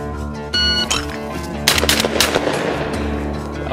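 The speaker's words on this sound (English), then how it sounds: "I will hand throw 3 clays out and shoot them as fast as I can" A Winchester SX4 Upland 12-gauge shotgun fires rapidly at three hand-thrown clays outdoors, with loud close blasts in quick succession and a brief ringing echo after each.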